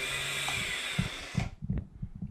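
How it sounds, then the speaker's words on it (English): BMW K100 motorcycle starter motor on a flat battery gives a faint, strained whir for about a second and a half, then stops, followed by a few soft clicks and knocks. "Let's see how the starter motor sounds this time."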